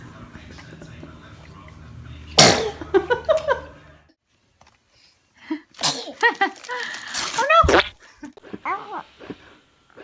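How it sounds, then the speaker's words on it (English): A baby sneezes once in a sharp, sudden burst, followed by soft whispery voices and light giggling nearby. "She sneezed at his honk."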